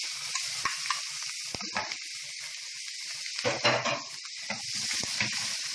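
Onions sizzle in leftover fish-frying oil in a pan, a soft steady hiss with a few scattered pops and crackles, close and fairly quiet with no talking.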